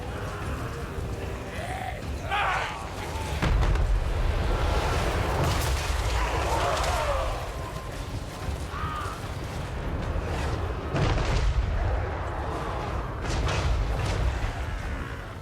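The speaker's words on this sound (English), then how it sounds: "Ooh, and some devastating cannon fire." Cannon fire booms in a Warhammer 3 battle, several heavy blasts and rumbling impacts spread over a busy, dense battle din, with a voice commenting over parts of it.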